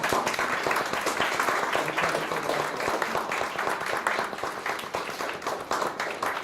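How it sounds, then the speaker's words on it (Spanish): An audience at a talk claps in sustained, dense applause that carries on steadily for several seconds, tapering only slightly toward the end. "dense un gigante aplauso"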